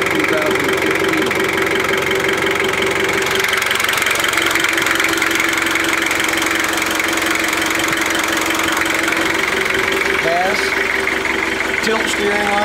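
A Toyota Land Cruiser engine idles in neutral with four-wheel drive engaged, giving a steady, close mechanical hum with a slight knocking texture that holds for the whole stretch. A faint whine joins near the end.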